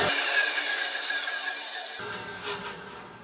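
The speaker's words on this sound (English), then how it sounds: "I'm just going to shut it off, hold the board tight, and wait for the blade to stop" A woodworking band saw is switched off mid-cut with a board held against the blade, leaving a fading whirring hiss as the blade coasts down alone.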